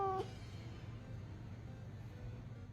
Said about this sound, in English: This is how a cat sounds when they want something from you.